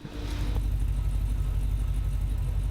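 1966 Chevrolet Chevy II street machine idling nearby, a steady deep rumbling engine throb that holds constant throughout, heard on its own without talk.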